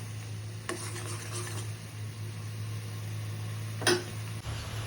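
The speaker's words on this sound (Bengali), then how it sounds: "এবার কিছুক্ষণ নাড়াচাড়া করব।" Pabda fish in mustard paste curry stirred in a pan, a low simmering sizzle under a steady hum, with a few distinct scrapes and clinks of the spoon against the pan.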